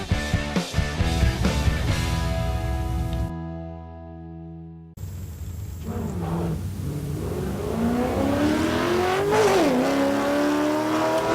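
Drag racing at a night meeting, a Ford and a Holden Ute launching off the line: loud revving engines and sharp bursts, a brief near-silent gap, then a rising engine roar pulling away.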